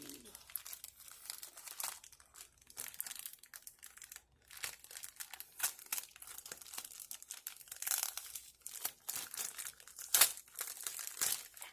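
Close, crinkly rustling and crackling as plastic packaging is crumpled and torn open in irregular bursts.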